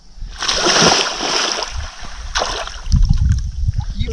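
Warm water splashing and sloshing nearby in a couple of bursts, followed by lower churning and gurgling.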